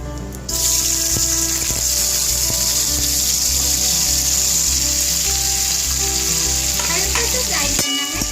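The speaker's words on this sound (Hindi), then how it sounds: "हल्का सा फ्राई करना है ताकि इसका जो कच्चापन है वो ना रहे।" Chopped onion and capsicum fry in oil in a kadai, a loud, steady sizzle that holds for several seconds, broken by a few stirring scrapes and clinks near the end, with no talk.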